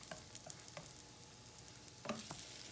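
French toast fries in a pan as a soft, faint sizzle, with a few light scrapes and taps as it is turned.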